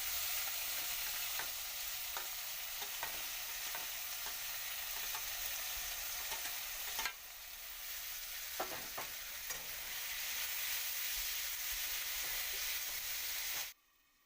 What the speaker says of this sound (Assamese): বিলাহীখিনি লৰাই দিব লাগে, নহ'লে বিলাহীখিনি লাগি ধৰিব কেৰাহীত